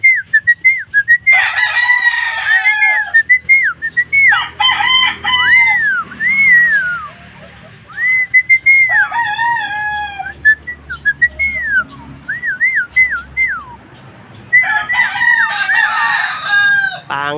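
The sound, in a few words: chickens clucking and rooster crowing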